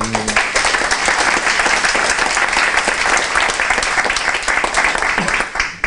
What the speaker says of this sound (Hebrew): מחיאות כפיים באמת